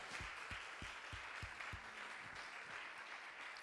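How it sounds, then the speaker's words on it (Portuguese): A church congregation claps for Jesus during a Portuguese sermon, a lively, full round of applause with a few rhythmic beats standing out at first before it settles into an even wash. "Um aplauso para o Senhor Jesus"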